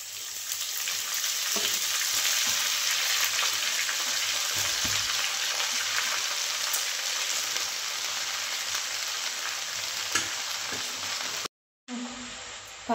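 Spring onion greens, garlic and cumin fry in oil in a kadhai, giving a steady, dense sizzle that hisses continuously, with a brief cut near the end before the frying resumes.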